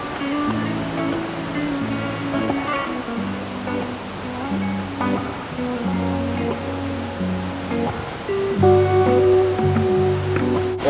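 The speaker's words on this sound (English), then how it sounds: "Oregon truly has some of the best waterfalls in the world, in my opinion." A waterfall in Oregon rushes as a steady, broad roar throughout, heard beneath music on a rainy night.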